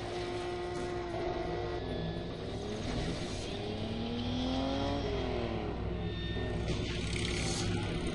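Car engine in the video game Total Overdose, a continuous droning roar that rises and falls in pitch as the vehicle accelerates and shifts, steady and close throughout with no talk.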